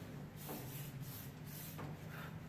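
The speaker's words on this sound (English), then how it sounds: "just give it a little bit of a spray" Short aerosol bursts of silicone spray hiss against a VW T3 cab door window seal, two or three brief sprays at close range, fairly quiet over a low steady hum.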